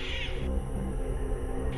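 A cartoon cat yowls in a horror story for children, a sustained, fairly loud drawn-out wail over a musical background.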